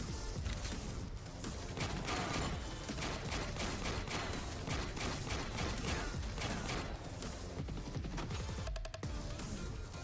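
Heavy gunners firing in the strategy video game Warpips, a dense, unbroken clatter of many overlapping automatic weapons, loud and steady throughout with a brief distinct burst near the end.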